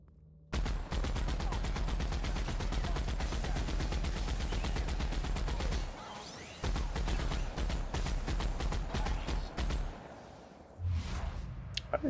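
Rapid bursts of gunfire from a weapon fired at an enemy in The Outer Worlds, loud and sustained in long automatic strings with a brief pause midway and scattered final shots.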